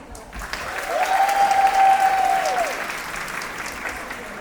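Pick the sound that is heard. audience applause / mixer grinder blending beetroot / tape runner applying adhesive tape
audience applause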